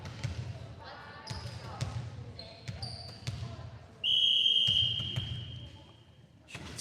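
A referee's whistle blows at a volleyball match, one long sustained shrill blast over crowd murmur in an indoor gym, with a few shorter chirps and ball bounces before it.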